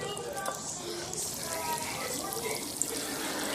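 Dry ice at about minus 78 degrees Celsius bubbling and fizzing in very cold water, giving a steady, dense hiss of rushing, gurgling liquid with a small pop near the end.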